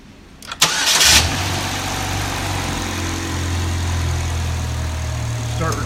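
A car engine cranks briefly and catches, then settles into a steady, fairly loud idle that runs alone with no one talking over it, set up during an ignition signal and current test.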